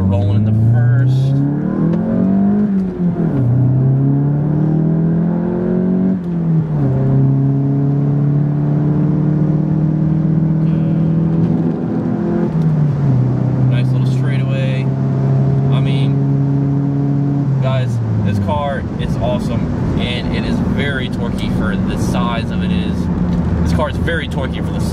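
Volkswagen GTI engine pulling hard through the gears, its rising drone broken by short dips at each shift, loud and close with steady cabin roar and someone talking over it.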